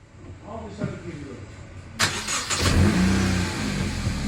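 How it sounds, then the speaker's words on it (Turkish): A Honda FB7 engine with its cutout exhaust valve closed cranks and catches halfway through, then settles into a loud, close idle with a light rev. Voices talk quietly before the start. "Şimdi size bunun sesini dinleteceğim. Egzoz şu an kapalı."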